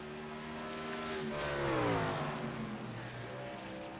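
Superleague race trucks on a short track roar past, a rising engine whine swelling to a loud pass near the middle then easing off as they brake toward a chicane, with other trucks droning behind.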